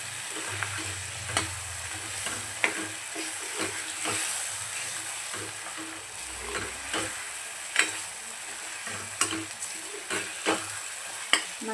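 Mutton pieces are sautéed in masala in a hot pan, with a continuous sizzle and repeated close scrapes and taps of the spatula at an uneven rhythm, no talk.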